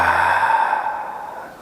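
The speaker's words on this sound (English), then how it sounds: "Take a big inhale through your nose, exhale out your mouth." A yoga practitioner lets out a long, audible breath through the mouth at the end of a flow, a soft airy whoosh that fades over about a second and a half, close and alone.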